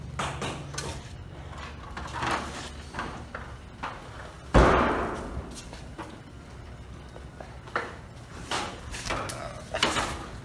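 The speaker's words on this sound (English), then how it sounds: "Got to close the overhead door here." An overhead door on a Cleary building closes with one loud thud midway, set against steady, moderately loud background noise, with no talk.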